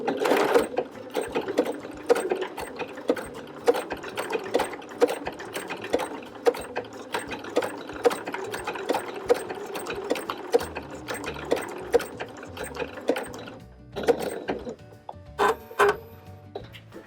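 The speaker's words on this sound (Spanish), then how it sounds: "Yo en esta ocasión voy a dar un festón a máquina." A sewing machine stitches a decorative scalloped edge on a fabric jar cover, giving rapid mechanical clatter in repeated close bursts with brief pauses between runs, without talk.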